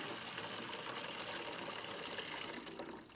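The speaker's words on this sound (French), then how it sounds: "mets-moi de l'eau tiède dans celui-là" Lukewarm water pours steadily into a bucket as a continuous broad rushing splash that holds for about three seconds, then eases slightly at the end, with no voices.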